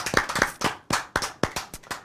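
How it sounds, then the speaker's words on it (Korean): A small studio audience at a speech program claps sparsely, about a dozen distinct close hand claps in an uneven rhythm over two seconds, with no talk. "박수 한번 주세요, 여러분."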